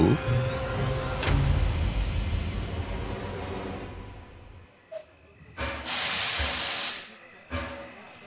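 A steam train hisses at a small, quiet station at night, with a rumbling start followed by several sharp bursts of venting steam, one long loud release and a short final puff.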